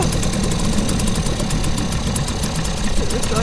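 A petrol outboard engine on a 707 yacht at Port Edgar idles just before it is switched off, giving a loud, steady, close mechanical rumble with a fine rapid ticking texture and no talk over it.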